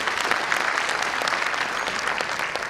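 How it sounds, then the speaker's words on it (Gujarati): A crowd at a Thakor community event claps for the seminar's organizers, the applause dense, even and sustained throughout, with a faint murmur of voices beneath the clapping. "પહેલા આપણે એક જોરદાર તાળીઓ પાડી દઈએ"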